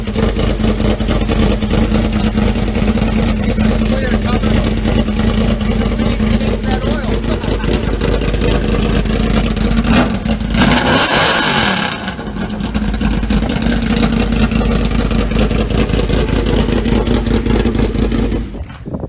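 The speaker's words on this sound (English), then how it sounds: "Go ahead and fire that thing up quick." A Yamaha VMAX motorcycle, just repaired after a charging fault that cost it spark, runs loud and close with a thick steady engine drone and a brief dip in the middle. Talk is heard over it.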